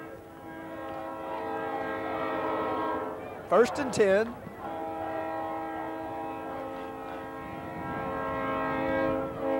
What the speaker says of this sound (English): listen to the beautiful train coming by Bobcat Stadium